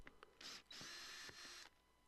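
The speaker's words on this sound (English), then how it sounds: "And then I get my drill." A power drill drives screws during a fishing reel repair, with short bursts of whirring, one quick tap, then two longer sustained runs separated by a brief pause, close and clear.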